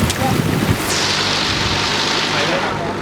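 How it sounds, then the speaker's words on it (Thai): Strong wind buffets an outdoor microphone in a constant roaring rush, loud and unbroken, with faint background sounds underneath. "ลมมันก็แรงอยู่"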